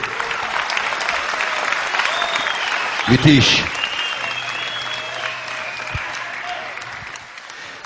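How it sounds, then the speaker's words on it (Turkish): Steady applause from a crowd fills the whole stretch, with a brief voice calling out partway through and a low hum underneath. "Kocaman alkışlarla"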